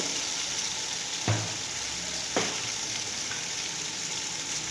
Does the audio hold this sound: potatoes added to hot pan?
yes